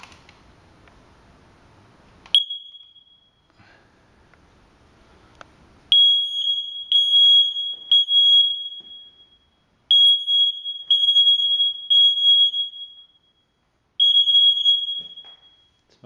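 A smoke alarm in a condo sounds a loud, shrill piercing tone after a brief chirp, blaring in long bursts separated by short pauses.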